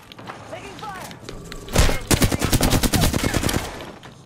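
Automatic gunfire in the video game Apex Legends, a loud burst of rapid rattling shots lasting about two seconds after quieter game sounds and voice chatter.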